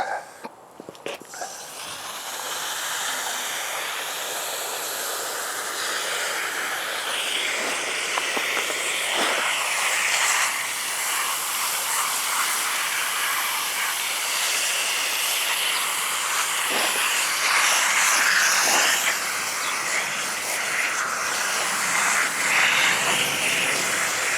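Water sprays steadily through a K&N air filter from a Ural motorcycle as it is rinsed, a continuous close hiss with brief dips and shifts in tone as the stream moves; no speech.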